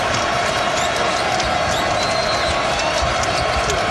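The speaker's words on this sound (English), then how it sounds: "The crowd's starting to wake up finally here in Milwaukee." A basketball arena crowd in Milwaukee at a Marquette men's game roars and cheers in a dense, continuous wash of noise, loud and sustained throughout, with a commentator talking over it.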